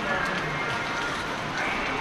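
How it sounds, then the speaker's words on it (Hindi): Rain falls through a morning in Munsyari, Uttarakhand, making a constant broadband hiss on surfaces, with faint voices mixed in beneath the steady wash. "आज सुबह से बारिश लग रही है यहाँ पे"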